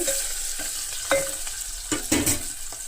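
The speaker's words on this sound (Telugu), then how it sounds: "ఫ్రై చేద్దామని తీసుకెళ్తున్నాను కిందకి ఫస్ట్ ఒక ఉల్లిపాయ ముక్కలు వేసానండి ఆయిల్ పెట్టి" Chopped onion pieces frying in hot oil in a pan for a Telugu ivy gourd curry, a steady close sizzle with a few clinks and stirring scrapes, no voices.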